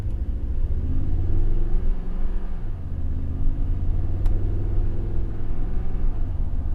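An Army Green Toyota TRD Pro drives along, a steady low engine and road rumble heard from inside the cabin, with slight rises in pitch and no talking.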